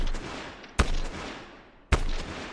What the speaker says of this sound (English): And then he just starts shooting at the wall